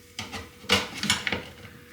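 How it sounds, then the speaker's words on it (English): Ceramic dinner plates clatter and knock a few times in a kitchen, close and fairly quiet, in short separate clinks with no speech. "So grab your dinner plate."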